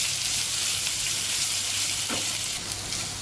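Sliced onion and long-cut capsicum sautéing in a pan, giving a loud, dense, continuous sizzle up close. A faint stir or scrape breaks through once partway.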